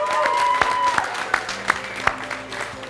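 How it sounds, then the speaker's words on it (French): A hall audience at a college sports excellence gala applauds the swimming team with dense, steady clapping, scattered louder claps standing out against a low background hum. "Une bonne main d'applaudissements et un bon cri pour notre équipe de natation"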